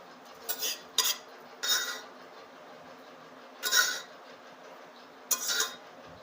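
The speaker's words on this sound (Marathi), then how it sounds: "कुकरमधनं निघणं डाळ त्यामुळे मी चमच्याच्या काढून घेते चमच्याने काढून घेते" A spoon scrapes and clinks against a metal pressure cooker while scooping out cooked dal, with about five distinct bursts of scraping spaced irregularly against a quiet background.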